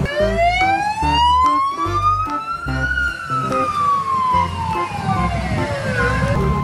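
Close, loud toy police siren with a rising and falling electronic wail over a repeating beat, continuous throughout and no voices.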